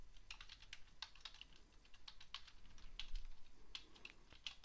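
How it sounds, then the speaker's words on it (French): Quiet, steady typing on a computer keyboard while working in PowerPoint 2016, with rapid irregular key clicks and occasional firmer taps over a faint background hum. "je tape mon texte"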